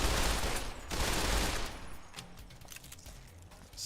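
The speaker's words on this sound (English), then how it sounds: "Especially with the fully automatic fire I've been leaning on." Fully automatic gunfire in Fallout New Vegas: a dense, loud burst of rapid shots in the first two seconds, trailing into scattered quieter shots and game noise.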